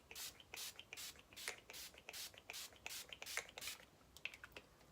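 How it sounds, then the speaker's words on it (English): Urban Decay All Nighter setting spray misted onto a face: a long run of about a dozen quick, crisp spritzes in steady rhythm, close and fairly soft, with nothing else in the background. "I'm going to set my face today with the Urban Decay All Nighter spray"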